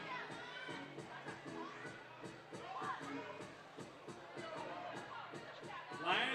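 A basketball crowd at a women's game between the Ulaanbaatar Amazons and China cheers and shouts during a timeout, with rhythmic clapping and whoops behind an announcer hyping the arena.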